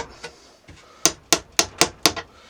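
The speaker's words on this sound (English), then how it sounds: "put it in, hit it with the hammer" Five sharp, evenly spaced hammer blows drive an express nail into a wall, loud and close, preceded by a couple of lighter taps.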